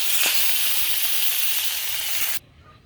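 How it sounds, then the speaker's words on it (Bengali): Pieces of rui fish sizzle in hot oil in a wok, a loud, steady, close frying hiss that runs unbroken for a couple of seconds before cutting off abruptly. "তেল গরম হয়েছে মাছগুলো দিয়ে দিচ্ছি মাছগুলোকে আমি একটু একটু করে ভেজে নিব"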